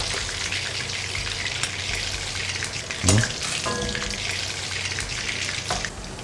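Pork fries in a pan for grilled pork with roasted rice powder, a steady, dense crackling sizzle close by. One brief knock or clatter sounds partway through.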